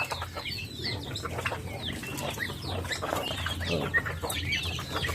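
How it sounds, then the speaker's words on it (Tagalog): Native chickens cluck and squawk in a pen at feeding time, a busy overlapping chorus of short calls at close to moderate distance, with no voices over it. "Native na manok sa kabila."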